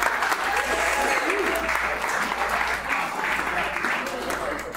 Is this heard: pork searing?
no